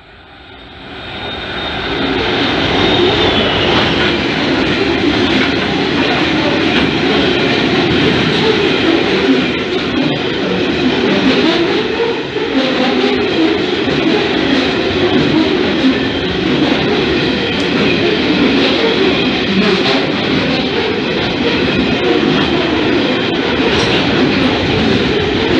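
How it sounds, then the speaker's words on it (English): Loaded limestone freight train hauled by a locomotive rumbles past a station platform at Picton, a loud, sustained roar and clatter of wagons that builds at the start and continues throughout. "We have a loaded limestone train passing platform number 1."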